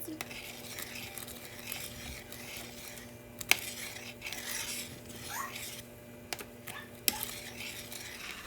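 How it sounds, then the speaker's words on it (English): Homemade noodles being stirred in a pot of boiling water, with soft continuous scraping and rubbing of a utensil, a few brief sharp clinks against the pot, and faint low background noise. "Loosening them up so they don't stick together. And constant stir."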